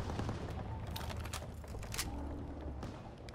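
An MG15 machine gun fires in a Normandy battle in Call of Duty: WWII, with dense, rapid bursts of gunfire clattering continuously and loudly throughout.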